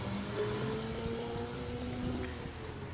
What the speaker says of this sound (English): You can hear the barking V-twin.